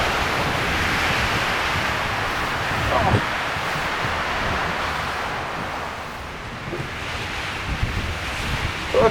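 Strong blizzard wind roars steadily around a snowbound cabin during winter van camping, a broad continuous rush with gusts swelling and easing, loud and close to the microphone throughout.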